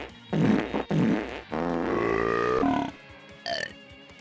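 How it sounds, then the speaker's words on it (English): On the loading screen of the racing game Crash Tag Team Racing, a string of loud comic burp and fart sound effects plays: two rough blasts, then a long drawn-out rumbling one, and a brief final squeak. "on the loading screen where you can make burp and fart sounds"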